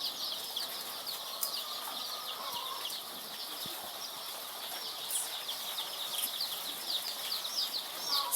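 Three-day-old layer chicks on a poultry farm keep up a constant high, thin chirping, many overlapping peeps at close range at a low, even level, with no speech.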